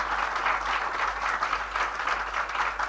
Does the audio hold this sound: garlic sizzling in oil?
no